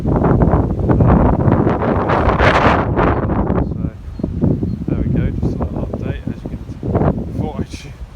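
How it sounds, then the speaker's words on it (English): Strong, gusty wind buffets the microphone on a small riverbank during float fishing, roaring in loud rumbling bursts that ease briefly and then return; someone speaks over it. "Show you how mental this wind is."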